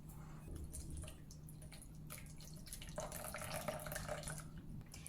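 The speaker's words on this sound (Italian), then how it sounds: "Verso l'acqua poco a poco per non formare grumi." Water poured gradually into flour to make a simple batter, a faint close trickle with soft drips and gentle splashing that runs continuously, quiet and without talking.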